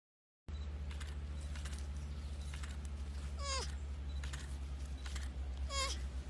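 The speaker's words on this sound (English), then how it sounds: "This is the baby sloth squeaking to its mum." A baby sloth calls to its mother with two short, high squeaks, far apart, over a steady low hum and faint camera clicks.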